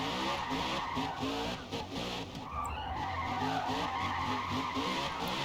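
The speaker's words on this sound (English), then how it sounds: "Should I try a bit of drifting? Think the back end will step out?" NASCAR stock car drifting on a Japanese mountain touge road: a sustained, loud tire skid and squeal over a continuous engine roar, held for several seconds without any talk.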